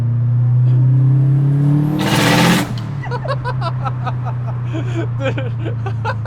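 A heavily modified 440 kW Subaru Liberty GT with a screamer pipe holds a loud droning rev, then flares into a harsh burst before settling to a rumbling idle as people laugh and talk nearby.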